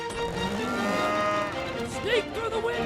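Cattle mooing in the animated film Cars 3, loud bellowing calls over a busy background of engine noise and music, with a second wavering moo near the end.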